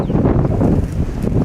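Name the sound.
strong wind blowing into the microphone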